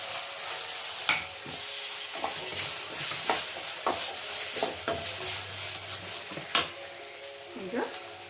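Paneer fried rice with green chilli sauce is stirred in a hot pan, sizzling steadily while a spatula scrapes and clacks against the metal in sharp, irregular strokes.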